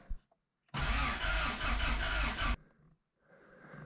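A 1985 Toyota 4Runner engine under repair cranks briefly, then catches and roars loudly at close range for about two seconds before cutting off abruptly, leaving a quieter mechanical hum.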